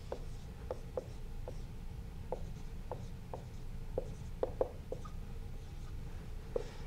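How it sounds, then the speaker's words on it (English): Chalk or marker writing out an equation on a board: a steady series of short, crisp taps and strokes at an irregular rhythm, close and clear over a low room hum, with no talk. "And so I write this out here."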